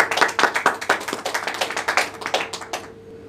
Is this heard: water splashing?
no